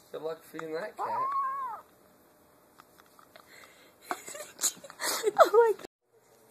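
A hungry cat meows up close, a drawn-out wavering cry followed by several shorter sharp meows, with people talking and moving around it.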